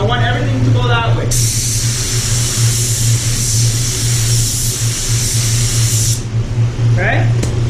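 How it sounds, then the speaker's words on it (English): A long, steady hiss of a Spraymax 1K spot blender aerosol can spraying a car panel runs for about five seconds over a constant low hum, with brief talk before and after. "Notice how I'm spraying that way, I want everything to go that way."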